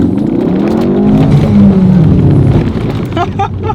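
A Ford Focus RS drifting on a sandy forest road roars loud and close, its engine revving with rising and falling pitch under a wash of tire and gravel noise, with a voice speaking briefly near the end.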